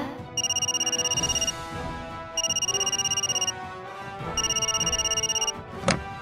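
A telephone at a bank rings in three separate bursts, each a rapid electronic trill lasting about a second, with short pauses between them. A brief click comes at the end.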